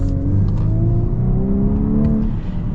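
A 2025 VW Atlas with a 4-cylinder engine accelerates, heard from inside the cabin as a loud, steady hum that rises gradually in pitch without a break, with no speech.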